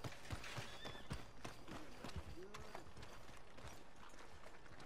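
Horse hooves clop in quick irregular beats through a Red Dead Redemption 2 game scene, faint and mixed with ambient game sound and brief snorts.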